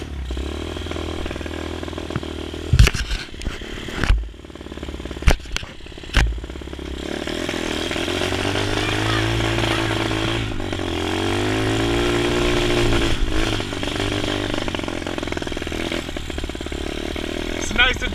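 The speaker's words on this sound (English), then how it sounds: "Nice addition to the motorcycle collection." Honda SR125 pit bike engine running loud and close, a steady revving drone with a few sharp clattering knocks early on, then a sustained rising and falling engine note throughout.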